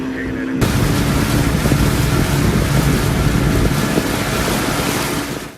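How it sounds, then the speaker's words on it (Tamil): A motorboat carries passengers on the Kaveri river, heard as a loud, steady engine and water roar mixed with wind buffeting on the microphone, starting abruptly and running on continuously. "காவிரி ஆற்றில் படகு சவாரி செய்தும் இயற்கை அழகை கண்டு ரசித்தும் மகிழ்ந்தனர்."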